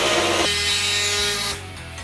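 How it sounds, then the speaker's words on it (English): A body shop saw cuts into the fender of a Jeep Cherokee XJ during trimming for fender flares, giving a steady, loud buzzing saw drone that runs close up and drops off near the end, with no talking. "The body shop saw works real well for getting in places like this."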